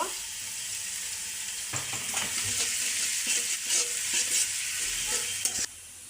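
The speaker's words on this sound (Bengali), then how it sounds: "এখন দিয়ে দিলাম একটু পেঁয়াজ কুচি, এটা একদম লাল লাল করে ভেজে নেব।" Chopped onions fry in a pan with a steady hiss, joined after a quiet start by repeated spatula scrapes and stirring knocks, up close with no speech, ending abruptly.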